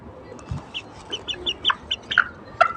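Sonali crossbreed chicken clucking close by in a short run of quick, soft clucks with a brief sharper call near the end, alone without any talk.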